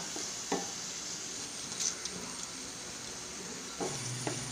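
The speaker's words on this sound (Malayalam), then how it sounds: "ചൂടായ എണ്ണയിലേക്ക് രണ്ട് മീഡിയം സൈസ് സവോള നുറുക്കിയത് നാല് പച്ചമുളക് നീളത്തിൽ മുറിച്ചത്" Chopped onions, green chilies and dried chilies sizzling steadily in hot oil while being stirred, with a few soft utensil scrapes against the pan and no talking.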